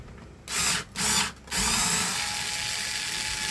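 A power screwdriver loosens a screw on a hair dryer in two short whirring bursts, close and loud, followed by a steadier motor hum.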